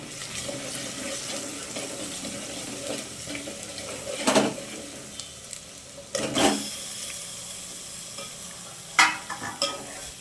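Spices frying and being stirred in a pan for mutton dalcha, with a steady close sizzle and occasional louder scraping stir strokes.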